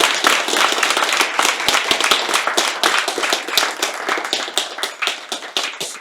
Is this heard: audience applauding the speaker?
yes